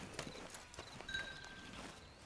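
Horse hooves clip-clop at a walking pace in Red Dead Redemption 2 Online, with a quiet, steady rhythm of hoof strikes and faint background ambience.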